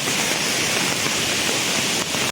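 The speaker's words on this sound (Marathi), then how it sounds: "खूप जोरदार पाऊस पडलेला आहे" Heavy monsoon downpour and rushing floodwater in Omali, Ratnagiri, form a dense, loud, unbroken roar of water that holds steady throughout, with no voices.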